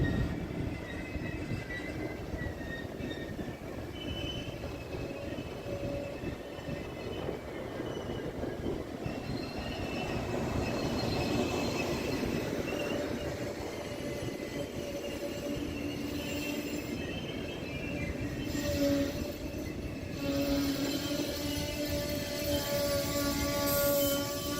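An Amtrak Empire Builder passenger train rumbles through Montana, a loud, continuous rolling roar with wheel squeal and faint clickety-clack, heard steadily from nearby with no voices.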